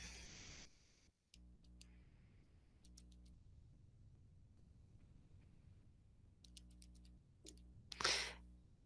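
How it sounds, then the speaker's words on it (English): Sparse keyboard keystrokes tapped during a physics lecture calculation: faint, scattered clicks in small clusters over a quiet room hum, with a slightly louder burst near the end and no talking. "Okay, so now I'm just typing this in."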